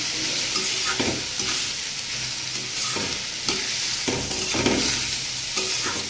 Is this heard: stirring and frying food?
yes